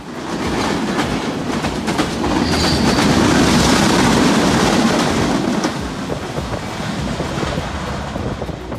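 A Bangladesh Railway intercity express with a mixed rake of PT Inka and Chinese CRRC coaches thunders past close by, a loud, sustained rolling roar with rhythmic clickety-clack and no voices.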